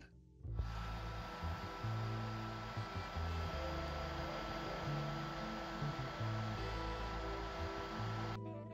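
Steady whirring cooling fan of an old Pentium 4 desktop PC idling at the desktop, a constant broadband whoosh with a low droning hum, loud and unbroken, with no talking.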